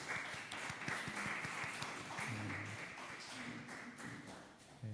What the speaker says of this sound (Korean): 주신 하나님께 우리 감사와 찬양의 박수를 드렸으면 좋겠습니다